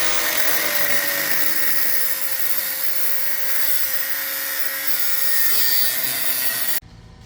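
A power tool grinds steadily through the metal body of a BMW E36 during a V8 engine swap, a loud continuous whining cut held for several seconds before stopping abruptly.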